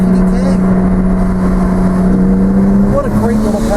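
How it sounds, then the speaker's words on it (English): Porsche 987.2 Spyder with PDK gearbox and TPC Racing turbo setup, engine droning loud and steady from inside the cabin at quarter to half throttle, a shift note change near the end with pops between gears; voices talk over it. "the backfire between the gear shifts on the PDK"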